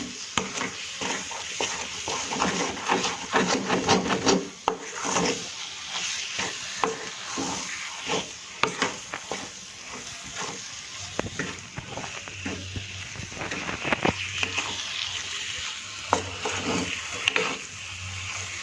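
Sugar being stirred into moraiya sheera in a pan, with continuous scraping and stirring strokes over a steady sizzle, close and fairly loud throughout with no talk.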